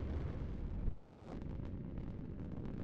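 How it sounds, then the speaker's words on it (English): Spaceship engines powering up in a video game: a broad, steady rushing roar that dips briefly near the one-second mark, then swells back to a sustained, even drone. "Turning up the engines now"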